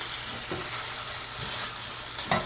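Garlic frying in a pan, a dense, constant hiss of sizzling close up, with a few soft stirring scrapes.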